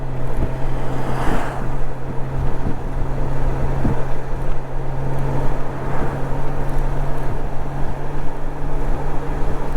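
A 1997 Honda Goldwing GL1500SE motorcycle cruises down a street in third gear, its steady engine drone close and continuous, with wind rush over the rider throughout.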